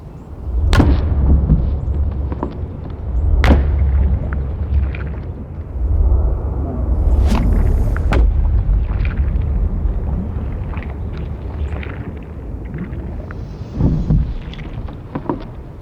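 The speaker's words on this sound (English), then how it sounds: "I'm gonna hit with the normal sledgehammer first." Several sharp, heavy sledgehammer strikes on ballistic gelatin land at uneven intervals over a low, rumbling wind-like noise.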